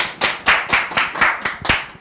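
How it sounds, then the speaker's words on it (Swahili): A small group claps in a brisk, even rhythm, about eight sharp claps in two seconds, close and clear with no talk. "Tuwapigie makofi."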